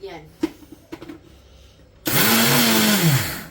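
Chikki, a brittle Makar Sankranti sweet, is crushed in a kitchen mixer grinder. After some quiet knocks and handling, the motor bursts into a loud, close whirring roar that holds steady and shifts in pitch as the pieces break up.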